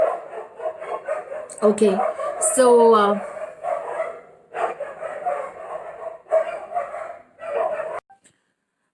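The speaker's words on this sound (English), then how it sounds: "there were lots of dog barking there" Street dogs bark at night around 1 a.m., repeated yelps and barks scattered through the clip with someone talking over them.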